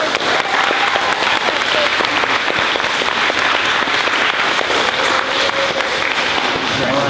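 A school recognition day crowd applauds steadily and loudly throughout, dense clapping filling the whole stretch without pause.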